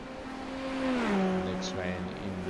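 A prototype race car in a racing video game at Fuji International comes out of the last corner, its engine note rising then dropping in pitch as it shifts and passes, under a commentator's voice.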